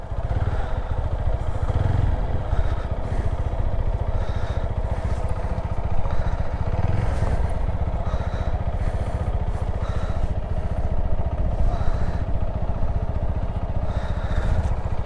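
Motorcycle engine running on a long ride to Nikli Haor in Kishoreganj, Bangladesh: a continuous mid-pitched throbbing drone with faint clatter, steady and fairly close throughout.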